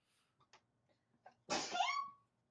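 A single sharp sneeze bursts out after a few faint breaths and small mouth noises, close and fairly loud, with no talking.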